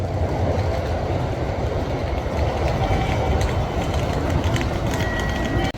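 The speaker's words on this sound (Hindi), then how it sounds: "वो यहाँ पे अटेंशन में खड़े हैं क्योंकि ट्रेन आने वाली है।" A train pulls into a station in Tokyo, Japan, with a loud, continuous rumbling roar of wheels and cars passing close by, steady throughout with faint higher squeals near the end.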